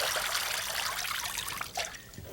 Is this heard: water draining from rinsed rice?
yes